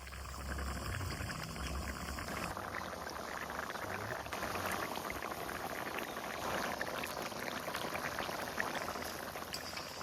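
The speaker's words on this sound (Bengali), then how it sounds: "যেহেতু খাসির চামড়া তার জন্য ধৈর্য ধরে খুব হালকা আছে ভালোভাবে কিন্তু সেদ্ধ করে নিব" Goat skin boiling in a pot on the stove, a steady dense bubbling and simmering that carries on throughout, close and moderately loud, with no voices.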